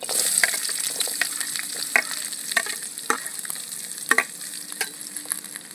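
Onions fry in oil over an outdoor wood fire for tomato-onion chutney, a bright continuous sizzle crackling throughout with repeated sharp scrapes and taps of stirring, close and clear with no voices.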